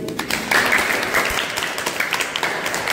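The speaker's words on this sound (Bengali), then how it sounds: "হাততালি।" Classroom of students claps in steady, even applause, moderately close and continuous for a few seconds with no talking over it.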